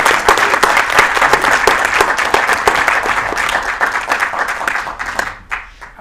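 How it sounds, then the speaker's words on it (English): Audience applause at a filmmaker memorial for John Singleton, as a crowd claps for Oscar winner Ruth Carter; dense, steady clapping fills the room before thinning out near the end. "And please, a round of applause for Ruth Carter,"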